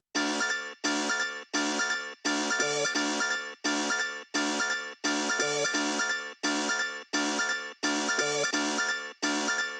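A short melodic music sample loops in steady repeated phrases, bright chime-like tones pulsing in evenly spaced bursts with brief gaps between, moderately loud and with no voices.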